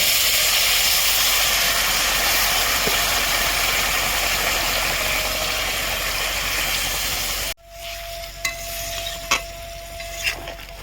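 Meat frying loudly in a pan gives a steady, dense sizzle that cuts off abruptly, leaving a quieter bubbling simmer with a faint tone and a few light knocks.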